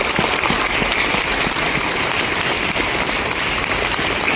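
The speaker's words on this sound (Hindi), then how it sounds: "एक बार तालियां महाराज जी के लिए" A gathering at a celebration for Shri Mahant Devendra Das Ji Maharaj breaks into applause for Maharaj ji, a dense, steady clapping from many hands that fills the space, loud and sustained throughout.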